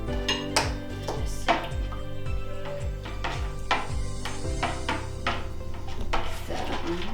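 Couscous is stirred in a pot or bowl with a utensil, producing repeated scraping and knocking sounds in an uneven rhythm, close and fairly clear, with no talking.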